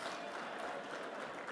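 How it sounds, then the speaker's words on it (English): Applause for Adam Rayfield on a DPO election night livestream, steady continuous clapping from a crowd, fairly faint and distant. "Everybody give Adam a big round of applause."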